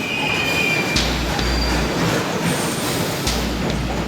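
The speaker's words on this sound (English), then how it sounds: "The trains." Subway trains run on the track through a tunnel, making a loud, steady rumble with metallic wheel squeals and brief clanks, and no voices.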